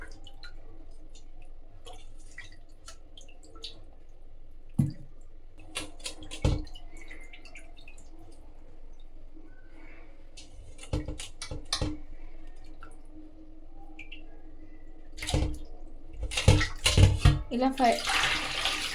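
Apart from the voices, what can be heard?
washing fish in water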